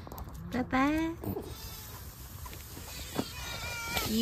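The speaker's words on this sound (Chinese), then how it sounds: "哟，还有我家猫咪。" A pet cat at a rural family home gives a short, close meow near the start. People talk around it, and the rest of the stretch is quiet background.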